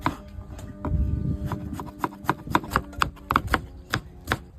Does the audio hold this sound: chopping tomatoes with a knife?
yes